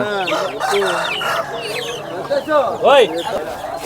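Chickens at a poultry sale in Gokavaram, including breed hens, cluck and squawk close by, with a rooster-like crowing call near the end, under people talking.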